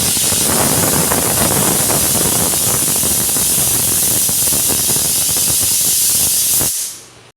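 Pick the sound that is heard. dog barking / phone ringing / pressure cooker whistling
pressure cooker whistling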